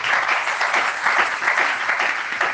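A church congregation claps in sustained, dense applause throughout, close and steady with rhythmic swells, during a lively worship service.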